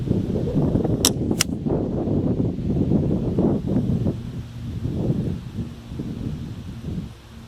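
Two sharp, bright cracks in quick succession early on amid steady wind buffeting outdoors during long range shooting with a sub-12 springer airgun, followed by continued wind noise.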